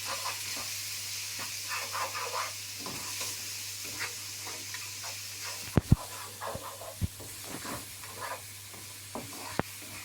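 Spices being stirred and mixed in a sizzling pan for gobi aloo, with a continuous frying hiss, spoon scrapes and a few sharp clicks against the pan, close and steady.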